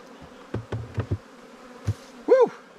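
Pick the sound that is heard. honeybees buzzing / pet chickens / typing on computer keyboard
honeybees buzzing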